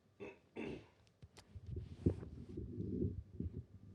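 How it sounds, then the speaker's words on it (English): A few short throaty grunts and rasps, a person clearing their throat several times up close in an otherwise quiet room. "Sorry, I had to clear my throat"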